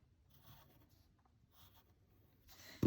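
A pencil eraser rubs back and forth over paper while shading an elf drawing, producing soft, close scratchy strokes in short bursts, ending with a louder brush or knock.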